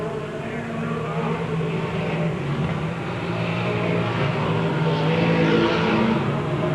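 Stock race cars lap a track, a continuous engine roar that swells gradually as the cars draw nearer, loud and unbroken with no speech over it.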